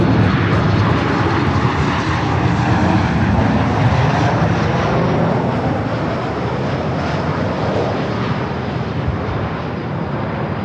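A Southwest Airlines jet lands on runway 24 right at LAX, giving a continuous broadband engine roar that stays loud and even throughout, slowly easing off toward the end.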